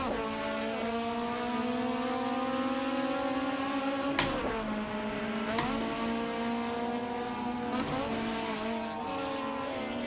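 Cars in a racing video game, including a Honda Type R, rev hard with a sustained engine drone that rises in pitch through gear changes, broken by a few sharp clicks.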